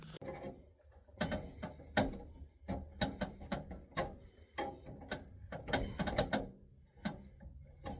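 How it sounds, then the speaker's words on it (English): Wrench work on the nuts of fuel lines at the back of a 1940s marine alcohol stove produces irregular metallic clicks, taps and clanks, close and moderately loud, in uneven bursts with brief gaps. "Now I just need to flip this around and tighten everything up,"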